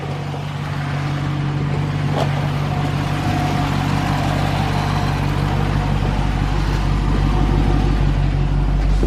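A car with a 392 engine runs steadily right after its first oil change, a close, continuous low rumble with a mild swell in revs partway through and no talking.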